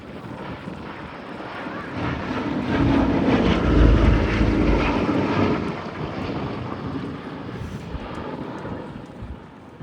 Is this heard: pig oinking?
no